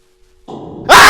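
A dog in a haunted-room video game gives a single loud sharp bark that bursts in abruptly after a low electronic hum.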